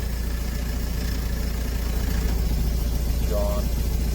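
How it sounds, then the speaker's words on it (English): A Mahindra Roxor's engine idles steadily with the clutch pressed, showing a bad throwout bearing; a constant close low rumble fills the whole stretch, and a brief faint whine rises near the end. "No issues other than I think my throwout bearing's bad."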